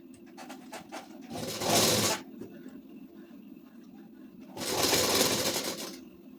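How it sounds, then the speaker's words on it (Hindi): Two separate runs of a sewing machine stitch a neck strip on a ladies' suit, each lasting under a second or so, with light handling and clicking in the quiet gap between them. "इधर से ऐसे सिलाई चलाएंगे आधा इंच का दबाव लेकर"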